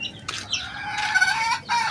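Chickens and young chicks of gamefowl stock cluck and cheep in a few close, overlapping bursts, with a brief wing flap near the start and no talking.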